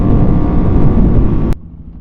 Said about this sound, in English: My bike is running great.